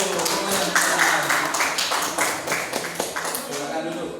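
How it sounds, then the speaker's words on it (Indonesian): A classroom of students claps for a student group, brisk overlapping hand claps that are loud at first and then gradually thin out and soften. "tepuk tangan untuk kelompok 1"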